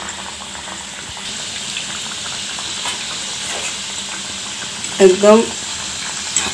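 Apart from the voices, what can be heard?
cauliflower samosas deep-frying in hot oil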